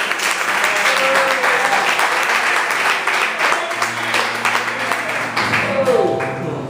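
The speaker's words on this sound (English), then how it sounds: "Please, can we give him a round of applause?" Audience at a first-anniversary church celebration gives a loud round of applause, dense clapping filling most of the moment before fading as a voice and tones emerge near the end.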